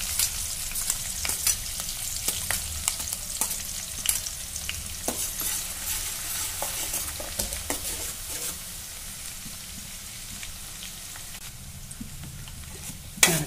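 Green chillies and curry leaves frying in oil for a North Karnataka Betageri chutney, producing a steady crackling sizzle with frequent popping spits and occasional stirring scrapes, close and continuous, ending with a brief louder knock.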